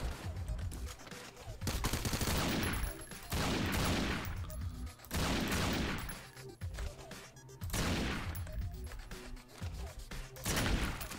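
Repeated bursts of gunfire in the video game Madness Interactive Reloaded, loud volleys arriving in several waves with short lulls between them, no voices over the shooting.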